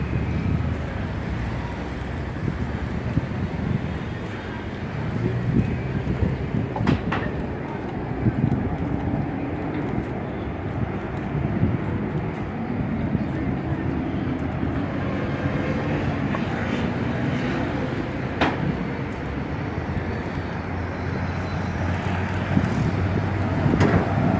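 Busy street traffic at the Reforma traffic circles in Mexico City, a steady dense roar of passing engines and road noise with occasional louder vehicles nearby.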